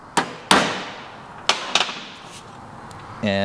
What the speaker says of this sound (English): Have your hammer handy, give it a little tap